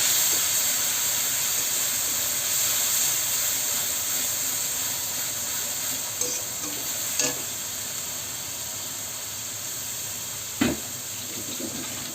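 Onion and garlic paste sizzles steadily in hot oil with whole cumin and nigella seeds, a constant frying hiss broken by a few faint clicks of a spoon against the pan.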